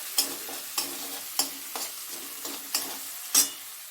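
Ground spice paste of poppy seed, melon seeds, ginger, green chilli and tomato fries in oil in a wok, a soft sizzle broken by regular sharp strokes of a spatula stirring, close up.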